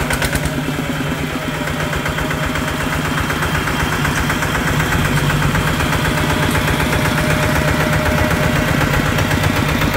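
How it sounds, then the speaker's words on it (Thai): A new Kubota RT155 walking tractor engine idles steadily and close by, a loud, even mechanical chug with a constant vibrating rhythm and no voices. "เครื่องยนต์ดีมากครับเครื่องยนต์ยังนิ่มอยู่เสียงลูกปืนก็ยังไม่ดังนะผมเพราะว่าเป็นเครื่องยนต์ใหม"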